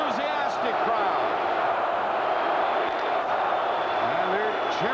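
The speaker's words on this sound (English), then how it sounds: "And they're cheering the Leafs already." A big crowd at a 1994 NHL playoff hockey game between San Jose and Toronto cheers loudly and continuously, shouts and whoops rising from the sustained roar while a voice talks over it.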